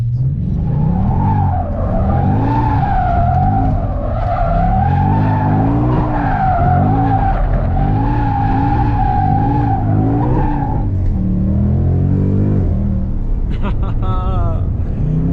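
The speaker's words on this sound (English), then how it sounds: "let's see if it will do donuts." A Shelby Mustang spinning donuts, engine droning loud and close with wavering pitch as the tires squeal and skid continuously, trailing off into a brief rev near the end.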